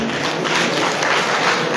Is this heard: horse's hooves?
no